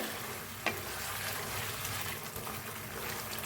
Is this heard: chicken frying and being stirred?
yes